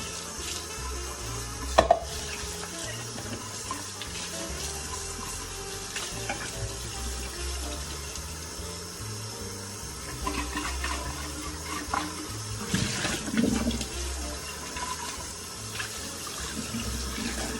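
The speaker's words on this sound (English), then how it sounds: "Give them a good clean. And a good rinse." Tap water runs steadily into a sink while half-gallon jars are rinsed, a continuous hiss and splash with a few brief knocks and clinks, no voices.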